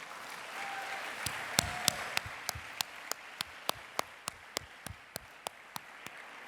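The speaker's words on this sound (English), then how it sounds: "Please give them a very big round of applause." Applause from an audience at a curatorial introduction event, sparse sharp claps repeating at a steady rhythm over a broad hiss, fairly close and moderately loud, with no talk.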